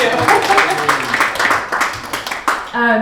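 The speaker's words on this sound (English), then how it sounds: "So let's give them a round of applause." Audience applause at an indoor community discussion event, a steady wash of many hands clapping for about three seconds before fading into a voice at the end.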